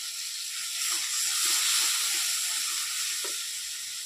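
Spiced water poured into mustard, poppy seed, ginger, chilli and tomato masala frying in a pan, giving a steady broad sizzle and hiss that swells in the middle and holds throughout, with no talking.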